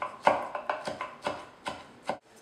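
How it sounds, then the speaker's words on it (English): A knife chopping fresh basil on a cutting board for pesto, about eight quick irregular knocks in a row, close and crisp, with no talking. "chop up our basil"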